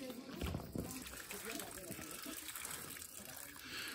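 Spring water flows continuously into a temple water tank, a steady nearby gushing and trickling beneath people talking throughout.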